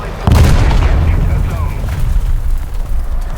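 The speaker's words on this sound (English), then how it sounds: "That's a revenge bomb." Bomb explosion in War Thunder during an M3 Lee and M16 tank battle: one sudden, very loud, close boom that rolls into a long rumbling decay over several seconds.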